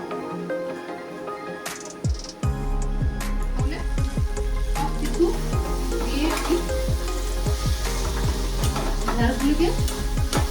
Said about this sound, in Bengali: ঢেঁড়সগুলিকে নাড়িয়ে নিলাম।